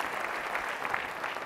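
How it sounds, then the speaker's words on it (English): A sales meeting audience breaks into steady applause at a motivational keynote, dense clapping from many hands filling the room at an even, sustained level throughout. "Give Kathy a big round of applause for helping out."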